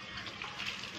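Water is splashed onto a face indoors to test waterproof makeup, a short breathy gush of splashing lasting about a second.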